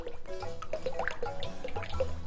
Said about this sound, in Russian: Наливаем масло.